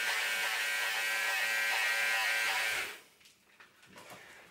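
Electric hair clippers buzz steadily and loudly for about three seconds while shaving hair, then cut off, leaving faint handling noises.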